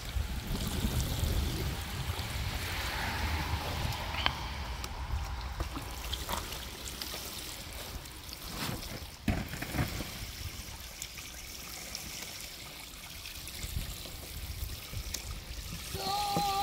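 Water is poured over Labrador puppies at bath time, a steady close trickle and splash running continuously with small knocks and shifts in flow.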